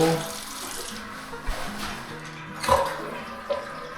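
A kitchen sink tap runs water in a Sadang-dong villa apartment during a leak inspection, with a steady low wash of flow and a few brief splashing bumps, heard fairly quietly with no talk.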